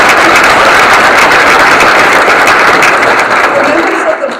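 A large audience at a county State of the County address claps loudly in a dense, continuous wash of applause that holds steady, then begins to taper at the very end.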